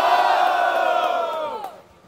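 Crowd at a Brazilian street rap battle erupts in loud cheering and whooping, a dense roar of voices that holds for about two seconds and then quickly fades.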